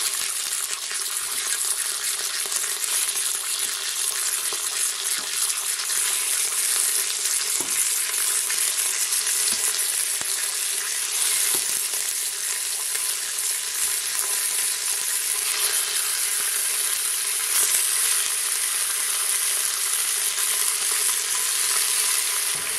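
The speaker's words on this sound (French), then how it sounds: "Et on met à dorer. Vous entendez, le préchauffage n'est pas terminé" Pork browning in a hot pan while the pan is still preheating gives a steady, loud broadband sizzle and crackle that runs unbroken for the whole stretch, with occasional small pops and no talking.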